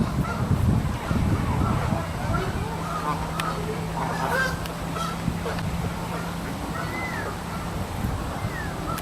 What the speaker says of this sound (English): the geese are everywhere